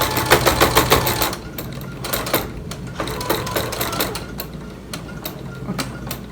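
A sewing machine stitching a fabric face mask, a fast rapid-fire mechanical chatter that runs steadily, then breaks into shorter bursts and pauses, close and loud.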